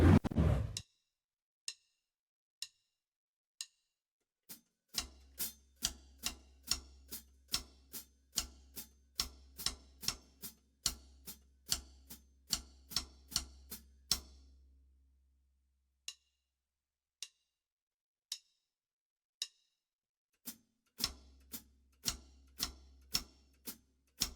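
Sharp, dry clicks on the rim of a floor tom tap out a steady pattern, joined by a low thudding pulse in two stretches, with brief pauses between.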